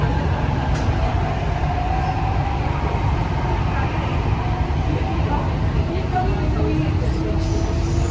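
A Delhi metro train rumbles loudly and steadily throughout the ride, with a constant low roar and faint squeals from the rails.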